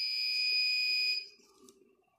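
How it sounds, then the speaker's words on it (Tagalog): An electronic buzzer fitted to a reverse polarity protection circuit to signal a blown fuse sounds one steady, shrill tone for about a second, then cuts off, leaving faint low noise. "nilagyan natin ng buzzer para indicator natin na pumutok na yung fuse."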